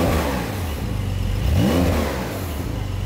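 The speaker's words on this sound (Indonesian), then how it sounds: "Kita akan pilih drive mode-nya yang Sport Plus. Nah, ini baru keluar suara exhaust system-nya." A modern Porsche in Sport Plus drive mode, its exhaust giving a deep, steady engine rumble that swells into a short rev midway before settling back, close and loud with no talk.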